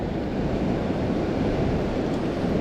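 Ocean waves break on coastal rocks at a rock pool on the Central Coast of New South Wales, a dense continuous roar of surf mixed with wind, loud and steady throughout.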